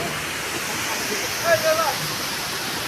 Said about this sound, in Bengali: এটা হলো ডাউকি ফলস, একদম ডাউকিতে, ডাউকি নদীর পাশে।